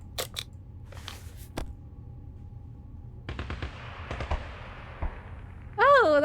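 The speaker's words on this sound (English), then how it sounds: "that's some shooting sounds" Gunfire in the survival game 60 Seconds!, a few sharp distant cracks scattered early, then a denser cluster of shots midway over a low ambient rumble, ending in a louder tonal swell.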